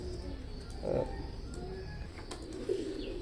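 Oman Teddy pigeons coo softly, with two short low coos standing out against a dull, steady background hum.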